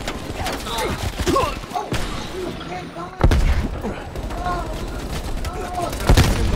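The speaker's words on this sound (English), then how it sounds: "That was shotgun." Gunfire in the video game Call of Duty Cold War: several sharp, booming shots, including heavy shotgun blasts near 3 and 6 seconds, under excited player chatter.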